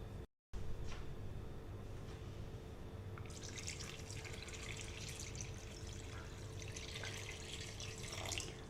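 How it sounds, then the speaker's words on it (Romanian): Cold water runs into a pot of Moldovan sarmale, a steady trickling pour with dripping that grows brighter and fuller partway through, close and quiet with no talk. "Apoi turnăm apă rece."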